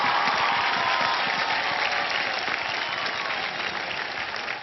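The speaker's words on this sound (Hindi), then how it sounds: "जोरदार तालियां इनके लिए हो जाएं" Loud, sustained audience applause fills an India's Got Talent stage as finalists are announced, a dense wash of clapping from a large crowd that holds steady for several seconds before easing slightly.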